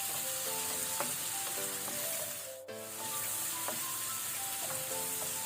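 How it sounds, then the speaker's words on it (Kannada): Chopped onions and salt fry on a medium flame in a pan for chapparada avarekai palya, a dense, loud, even sizzle that dips briefly midway, with occasional light scraping from stirring. "ಈಗ ಇದನ್ನು ನಾವು ಒಂದು 2 ಮಿನಿಟ್ ಫ್ರೈ ಮಾಡ್ಕೊಳ್ಳುವ."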